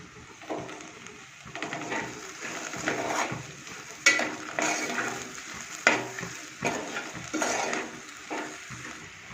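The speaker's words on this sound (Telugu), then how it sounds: "ఈ సాల్ట్ వేసి కలుపుకుందాం మళ్ళీ ఒకసారి" Salt being stirred into a lady's finger (okra) curry in a pan: continuous soft scraping and sizzling with repeated sharper utensil knocks against the pan, close and fairly loud.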